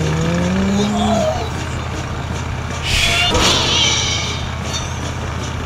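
A toy motor vehicle in the video game Bad Piggies drives with a steady electronic engine hum that rises in pitch, broken by a brief bright screech partway through.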